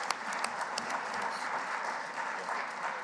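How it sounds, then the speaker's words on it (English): Assembly delegates at an Inter-Parliamentary Union session in Geneva break into steady applause, a dense wash of clapping from a large hall filling the short stretch. "there are yeses and noes, but I think the claps have been more"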